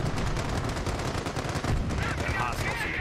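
A machine gun emplacement firing in the World War II strategy game Company of Heroes, rapid dense bursts of automatic fire rattling continuously at close range with battle noise throughout.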